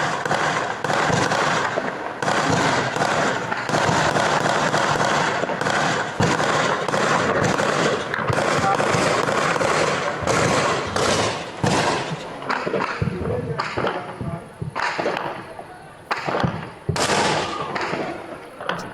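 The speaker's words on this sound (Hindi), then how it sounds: "ये दरअसल एडी गन्स है, ZU-23 गन्स इन्हें कहते हैं।" Heavy gunfire from ZU-23 anti-aircraft guns in Samba, Jammu and Kashmir, blasts in dense, rapid bursts, booming and crackling over and over, then thinning into separate sharp reports toward the end.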